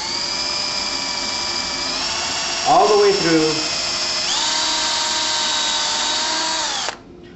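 A power drill pre-drills a hole through a wooden header and leg while installing bypass track, its motor whine steady and loud across the clip, shifting pitch as it bites and briefly bogging down, with a short spoken word partway through.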